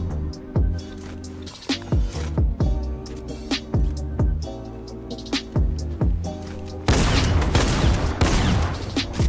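A rapid, dense run of gunshots in a video game build fight, firing in quick bursts over steady background music, growing busier and louder toward the end.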